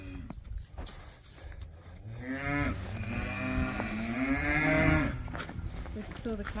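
A cow moos in one long, loud, drawn-out low call, with rural background noise around it.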